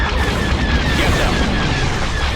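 An explosion destroys a torpedo launcher during a space battle in Star Wars: Empire at War, a loud sustained rumbling roar with dense low boom and hiss throughout, heavy and close without pause.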